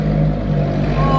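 Alfa Romeo 4C with a sports exhaust growls steadily and close by on a Monaco street, a low engine drone with a rising rev near the end, while a person talks over it.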